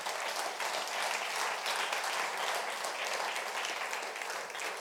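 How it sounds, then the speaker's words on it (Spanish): A church congregation claps for the Lord, a continuous, fairly distant patter of many hands held at an even level throughout, with no talk over it. "Damos un aplauso al Señor."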